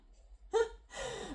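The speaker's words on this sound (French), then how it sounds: "Là, on a une série de bâillements." A person yawns nearby: a short voiced onset, then a longer breathy exhale, quiet and close in a hushed room.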